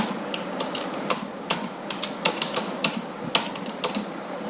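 Computer keyboard tapped while entering a Gmail ID on a sign-in page, a quick irregular run of close, crisp key clicks over faint room hum.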